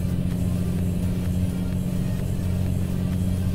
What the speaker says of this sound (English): What do you think to the sounds on this truck then?